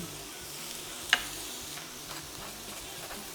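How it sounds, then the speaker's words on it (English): Short ribs and chorizo sear steadily in a hot pan, with a faint crackle throughout and a single sharp clink of a utensil. "listen to that sizzle. The searing of the meat's gonna add extra flavor"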